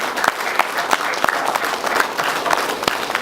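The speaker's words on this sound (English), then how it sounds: "So let's give a big round of applause to the volunteers" A conference audience applauds steadily, dense clapping from many hands filling the room at close range, with a few sharper claps standing out.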